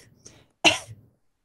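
A voice mimics a little coughing fit with a single harsh, throaty cough-like burst close to the mic. It follows a faint murmur and then falls silent.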